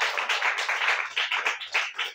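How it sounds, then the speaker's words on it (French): Church congregation clapping together in steady rhythmic applause, a dense, even patter of many hands with no voices over it. "Applaudis pour le Seigneur."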